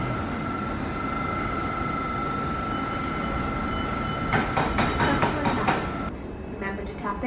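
A train at a platform at Clapham Junction station, a loud steady rumble and whine with a rapid run of wheel clatter near the end.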